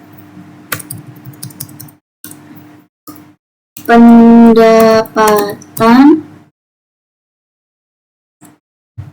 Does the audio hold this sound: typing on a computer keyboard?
yes